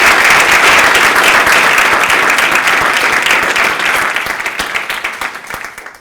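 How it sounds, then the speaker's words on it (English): Loud, close applause from an audience at an evening gathering of a rabbi panel, thick with individual claps at first and then gradually thinning and fading out. "Please join me in thanking them with a round of applause."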